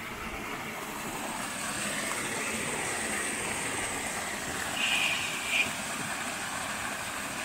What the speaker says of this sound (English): Check out this water source.